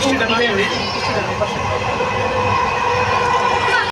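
A metro train runs with a loud, steady rumble and rail roar, with faint wheel squeal and clatter and voices heard over the noise.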